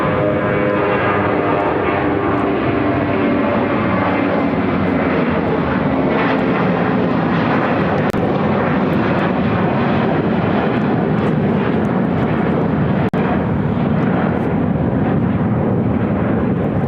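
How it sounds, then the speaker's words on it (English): A United Airlines Airbus A320 jet takes off from Chicago O'Hare bound for Mexico City, its engines roaring loud and steady throughout with a broad, sustained rumble and no talking. "United Airlines 359 taking off to Mexico City on the A320"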